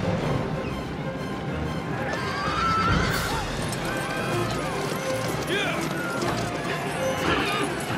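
A horse whinnies loudly amid busy, cluttered background noise in a 1992 film scene with a tipped-over wagon and fire, with hooves clopping and voices calling out.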